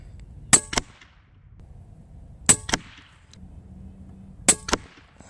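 A Daystate Pulsar bullpup PCP air rifle fires 25 grain GSB pellets at a bullseye target, three sharp evenly spaced cracks about two seconds apart, each followed quickly by a short metallic pellet impact, with quiet pauses between.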